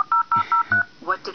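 A voice mimics the tones of a dial-up modem, with a quick run of short, even beeps that turns into a warbling screech. The sound is close and loud.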